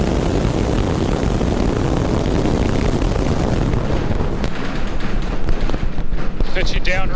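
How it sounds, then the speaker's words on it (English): SpaceX Starship rocket engines roar at liftoff on Flight 12, a loud, dense, continuous blast of noise that fills the whole stretch without letup, thinning only slightly in its upper crackle toward the end. "We have liftoff."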